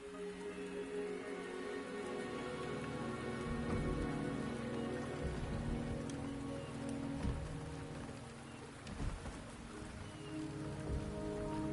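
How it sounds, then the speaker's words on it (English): Steady rain falls across a scene in the video game Wuthering Waves, a dense even hiss of drops on surfaces running throughout with faint low rumbles underneath, no voices. "The rain is subsiding,"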